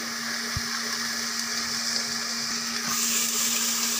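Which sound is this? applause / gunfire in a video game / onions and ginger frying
onions and ginger frying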